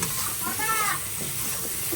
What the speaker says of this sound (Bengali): এবার এটাকে ভালো করে নাড়াচাড়া দিতে হবে।